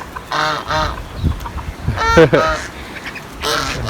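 Several geese honk loudly and close by in short repeated bursts, with brief gaps between the calls.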